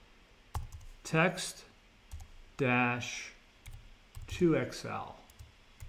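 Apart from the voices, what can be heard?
typing on a computer keyboard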